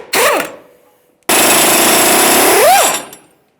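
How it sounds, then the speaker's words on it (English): Impact wrench with a 22mm socket spinning off U-bolt nuts on a Ford F-150, a short burst followed by a longer loud rattling run, each winding down with a falling whine, close by. "Now we're going to start dislodging our two U-bolts with a 22mm socket"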